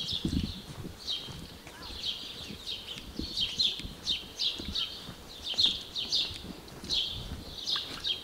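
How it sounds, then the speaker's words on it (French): Morning birdsong on a walk in Ruse, Bulgaria: repeated high chirps and short calls, fairly close, over a soft background of footsteps and faint street noise. "Ah, les oiseaux sont réveillés."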